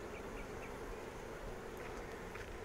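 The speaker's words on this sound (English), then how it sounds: "The bees are a little bit on the toey side today" Honey bees swarm around a Flow Hive during an outdoor hive inspection, a dense, continuous buzzing close by and unbroken throughout.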